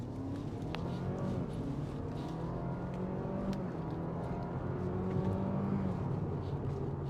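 A Honda Civic accelerates hard around a race track, the engine a continuous, fairly quiet rumbling roar with rising and falling pitch heard from inside the car.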